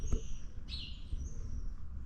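Birds chirp outdoors beside a road being filled and graded, with a couple of short high calls over low background rumble.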